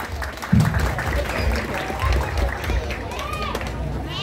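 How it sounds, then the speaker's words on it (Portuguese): Audience applause at a ceremony, a steady wash of clapping from a crowd running through the whole stretch, with voices murmuring underneath. "salva de palmas."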